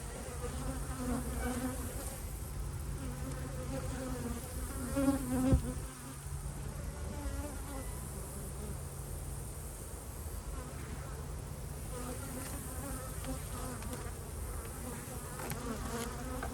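Steady, dense buzzing of many honey bees fills the whole stretch, close and continuous, with a brief louder burst near the middle.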